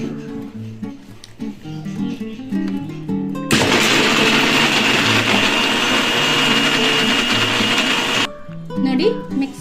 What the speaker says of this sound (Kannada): ಹಾಕೊಂಡು ಮಿಕ್ಸಿನಲ್ಲಿ ಮಿಕ್ಸ್ ಮಾಡಬೇಕು